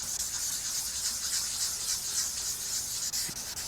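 Continuous dry scratchy rubbing of fine abrasive paper sanding a car headlight lens back and forth on its hard surface, steady and close.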